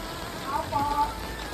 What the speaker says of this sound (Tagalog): Kaya napakalakas ng ulan.